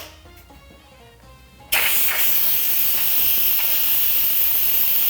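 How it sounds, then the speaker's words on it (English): Steam forcefully vented from a pressure cooker while making Assyrian hareesa. Quiet kitchen sounds give way to a sudden loud, sustained hiss that holds steady to the end. "So you can see where you'd want to be very cautious with the steam coming out."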